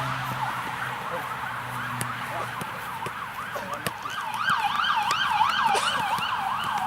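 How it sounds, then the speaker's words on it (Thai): An ambulance or rescue vehicle siren wails in a rising and falling cycle, moderately distant at first and growing louder and closer toward the end, over street traffic noise. "ใครเป็นอะไรยิดรถโรงพยาบาลรถกู้ภัย"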